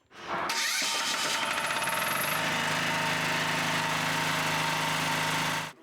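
A generator engine on a mobile repair truck for front-line vehicle and tyre repair starts up, then settles into a loud, steady mechanical running drone with a harsh rattle that continues for several seconds before cutting off.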